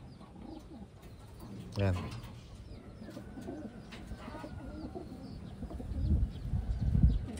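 Taiwan pigeons coo softly in a loft or pen, a low throaty coo standing out near the middle with faint chirps around it, while someone speaks briefly nearby.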